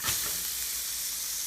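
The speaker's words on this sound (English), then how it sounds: "Sizzle." Burger patty sizzling as it fries for a bacon BBQ mac and cheese cheeseburger, a steady close crackling hiss throughout with no talk.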